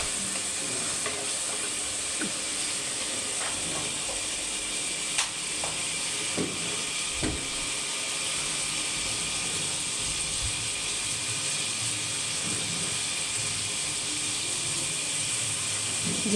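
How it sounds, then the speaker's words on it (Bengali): Turmeric powder and spice paste fry in hot oil with a steady, close sizzling hiss throughout, broken by occasional scraping and tapping clicks as the mixture is stirred in the pan, with no voices. "যেহেতু আমি ভাজা তেলটার মধ্যে সব দিয়ে দিলাম। এরপর হলুদের গুঁড়া একে একে আমি সবগুলোই দিয়ে দিব। ভালো করে এই মশলাগুলো নিয়ে কষিয়ে নিতে হবে।"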